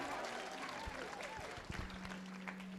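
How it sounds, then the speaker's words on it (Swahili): Steady crowd clapping fills an Akurinu church gathering, dense and sustained throughout, with voices and musical tones mingling underneath. "Tupigie wasema makofi mazuri."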